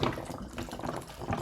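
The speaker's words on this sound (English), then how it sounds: "I'm spinning it, and then we're getting cool tornadoes" Water churns and swirls steadily inside a spinning plastic bottle forming a tornado vortex, a close, continuous sloshing rush.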